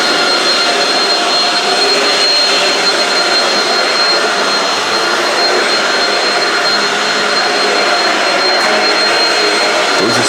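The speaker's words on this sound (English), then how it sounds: "Close this door and vacuum behind it." A Shark vacuum cleaner runs at full power while cleaning a resort room, a loud, steady, high-pitched roar held close throughout with no speech.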